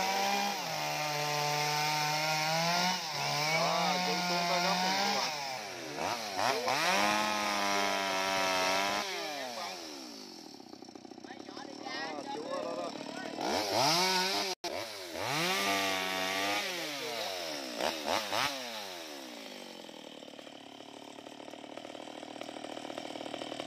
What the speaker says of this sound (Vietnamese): cưa cái thân đó lại cho người ta làm công chuyện nha các bạn